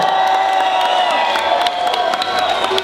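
A crowd cheering and applauding a prize-draw winner, loud whoops and shouts over scattered clapping, dense and close throughout with a lively, ragged texture.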